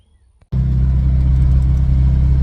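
Car interior on the road with overdrive engaged: after a near-silent moment, a loud steady low engine and road rumble starts abruptly and holds evenly.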